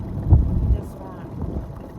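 Gusty wind buffets the microphone out on a windy bay of a lake in northern Minnesota during a fishing trip, a low rumbling roar with uneven swells, close and loud.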